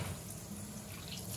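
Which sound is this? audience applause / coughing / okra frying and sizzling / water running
water running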